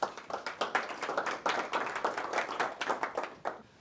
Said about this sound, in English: Round of applause to Madis as well.